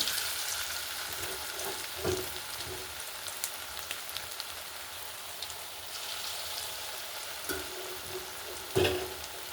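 Soft, continuous bubbling crackle of bitter gourd fritters (pakora) deep frying in oil, punctuated by a few louder clacks of a spoon or pan.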